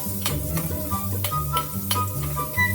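Garlic, onion and ginger sautéing in pork fat for Bicol Express are stirred with a utensil, giving a steady sizzle broken by several sharp scraping clacks against the pan at a regular pace.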